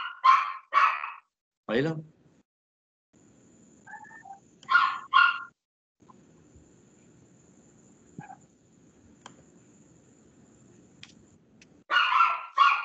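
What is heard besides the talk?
small dog barking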